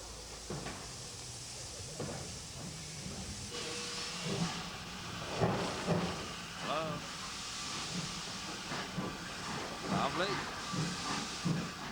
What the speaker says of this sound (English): A proud visitor to the gala was the newly rebuilt furnace locomotive number 20.